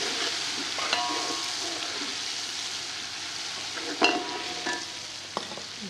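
Rice fries in oil in a pot for potato pulao (aloo tahari), a soft, steady sizzle with occasional stirring clinks and scrapes, louder around the middle.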